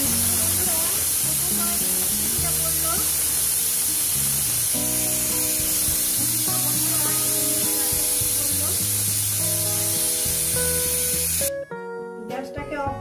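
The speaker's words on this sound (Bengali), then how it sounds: "3টে কি 4টে সিটি মেরে নেব।" Steam hisses in a loud, steady rush from a pressure cooker on a medium gas flame cooking mutton curry, with faint clatter and tones underneath, cutting off abruptly near the end.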